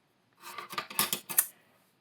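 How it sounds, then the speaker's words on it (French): A pair of scissors is handled during a craft project building a storage box, giving several quick metallic snips and clicks in a short cluster, close and fairly soft, with no talking. "j'ai besoin d'une paire de ciseaux"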